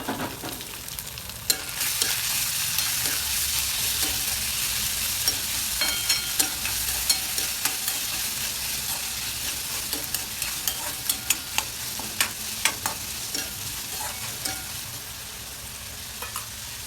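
Tomatoes frying in a pan for a chickpea usal, a steady close sizzle with frequent sharp crackles and pops, the stirring and spitting growing busier toward the end, no voices.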